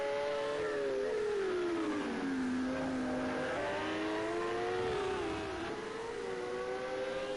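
A race car engine in a racing video game at a Long Beach street circuit holds a steady, loud, unbroken note. The note dips in pitch, then climbs again as the throttle opens out of a corner.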